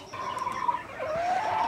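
Chickens on a farm making a drawn-out, wavering cluck and call, close and moderately loud, over faint background noise with no talking.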